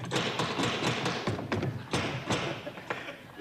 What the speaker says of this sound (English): The beautiful carved door that I was striking then